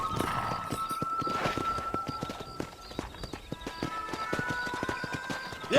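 Horse hooves trotting in the video game Red Dead Redemption during a cattle-herding ride, a steady run of rhythmic clip-clops with an occasional whinny close by, carrying on over a constant low background.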